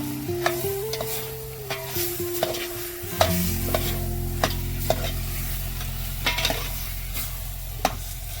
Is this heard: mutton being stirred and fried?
yes